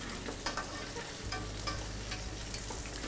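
Flour-dusted monkfish fillets fry in a hot pan with a steady, loud sizzle and crackle throughout, plus faint scraping stirs and no voices.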